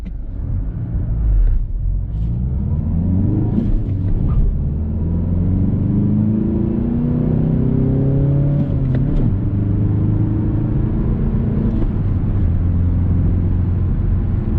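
A 2019 Mazda 6 CD150 accelerating hard in first gear from a full stop on a straight road at night, engine note climbing steadily in pitch, heard from inside the car with a low rumble and no talk.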